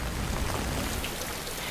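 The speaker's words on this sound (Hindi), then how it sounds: "बारिश भी रुकने का नाम नहीं ले रही है।" Steady rain falls continuously, a dense, even wash of patter and hiss at a low, distant level with no breaks.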